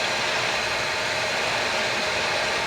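Heat gun blowing steadily at close range, a constant loud airy hiss with no pauses, used while replacing a power adapter.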